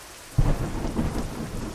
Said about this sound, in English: Roaring thunder.